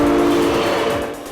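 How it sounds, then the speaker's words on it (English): A commuter rail train rushes past at high speed, loud and close, with a steady roaring rumble and a strong sustained tone that slowly fades as it moves away. "That train that just went behind me"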